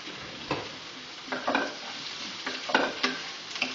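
Onions and garlic cook over very high heat, a steady close sizzle punctuated by several quick scraping stirs of a utensil against the pan at irregular intervals.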